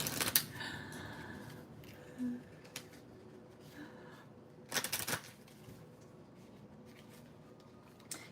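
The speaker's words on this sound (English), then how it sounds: "Oh, haven't shuffled this deck in a minute." A deck of tarot cards of mixed sizes is shuffled by hand in short rustling bursts with quiet gaps between them. A few sharper riffles stand out, close and soft.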